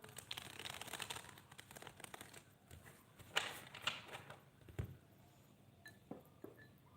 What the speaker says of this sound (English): Just giving these cards a good shuffle.